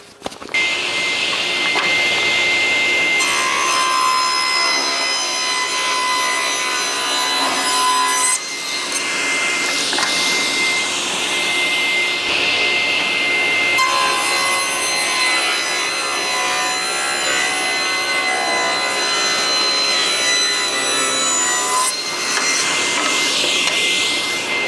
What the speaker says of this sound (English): over to the table saw and I'm going to be making the braces, the lower braces for the legs